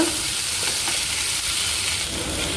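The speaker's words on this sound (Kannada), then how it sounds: "ಈಗ ಫ್ರೈ ಮಾಡ್ಕೊಳ್ತಾ ಇದ್ದೇನೆ" Onion and tomato fry in a pan with a loud, dense, continuous sizzle and hiss, close up and steady throughout.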